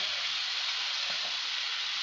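Chopped onion and tomato with cumin frying in a pan, a constant soft sizzle under faint stirring, with no talk.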